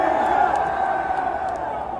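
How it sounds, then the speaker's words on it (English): Crowd cheering at the Waste Management Open golf tournament, a loud, sustained roar of many voices in a stadium setting, with scattered whoops rising above a dense wall of shouting. "this is the crowd at the Wasted Management"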